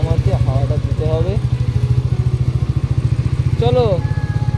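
A motorcycle engine runs steadily at close range with an even, rapid low thump throughout the ride. People speak over the engine at times.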